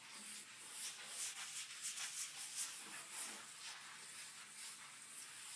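A protective coating is rubbed by hand onto the table surface of a Delta 10-inch 36-725 table saw, a steady close soft rubbing and wiping with brief scuffing strokes, no talking.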